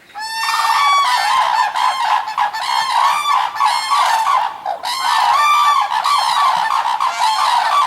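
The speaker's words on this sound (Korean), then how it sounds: "이 두루미는 공중을 날 때 아주 요란 소리를 낸다고 하는데 한번 들어보시죠" Cranes calling loudly in flight, a flock's harsh, trumpeting cries overlapping continuously and densely with only brief dips, close and clear with no voices.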